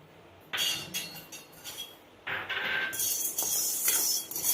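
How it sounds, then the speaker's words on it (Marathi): Peppercorns tipped into a hot, dry kadhai for roasting while making mango pickle: a few short bursts of rattling clinks against the metal pan, close and fairly loud, with a longer, denser scatter of rattling near the end. "आता मिरे टाकून घेते मी याच्यात कढईमध्ये"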